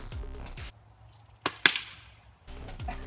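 A subsonic .22 LR round fired from a cocked rifle gives two sharp, close cracks in quick succession amid an otherwise quiet outdoor scene, with mechanical handling sounds before and after.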